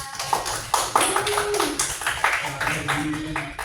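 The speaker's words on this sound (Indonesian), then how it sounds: "Kasih sih tepuk tangan untuk kelompok dua" Classroom clapping for a student group during a microteaching session, a modest run of irregular hand claps from a small audience, with voices audible beneath.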